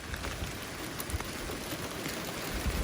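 Steady hiss of heavy rain falling outdoors during a car wash, constant broadband patter with no pauses and no voices.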